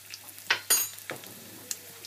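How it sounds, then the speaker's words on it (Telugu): Tempering spices crackling in about two tablespoons of hot oil, a few sharp sizzling bursts and pops over a quiet background, close and brief. "2 టేబుల్ స్పూన్స్ ఆయిల్ పెట్టుకొని మీరు పోపుకు కావాల్సిన సామాన్లన్నీ వేసుకోవాలి."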